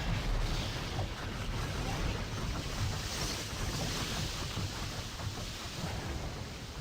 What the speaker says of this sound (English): Okay, so that just fills the water back up.